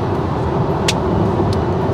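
A Volkswagen ID.3 electric car cruising toward the autobahn, heard from inside as a steady, even road and tyre rumble with a couple of brief higher hisses passing by.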